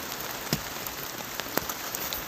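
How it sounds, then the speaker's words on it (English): Rain during a thunderstorm patters steadily on surfaces nearby, a dense even hiss with a few louder drops; no thunder stands out in this short stretch. "And it's raining with thunderstorm."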